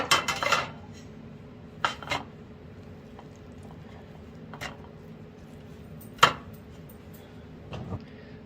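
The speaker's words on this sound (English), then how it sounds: "I got this grill plate that I'm going to use to put it on the grill" Sharp metallic clanks and clatters as halibut goes onto a metal grill plate, several separate hits spaced out over quiet moments, close and fairly loud.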